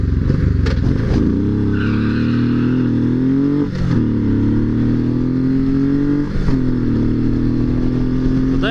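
A Honda VTX custom motorcycle accelerates hard from a traffic light, its loud close engine note climbing steadily through several gear changes with brief dips between shifts.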